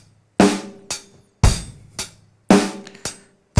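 A drum fill moves across the snare drum and floor tom, a few sharp hits sounding in a steady pattern, loud and close with no talking.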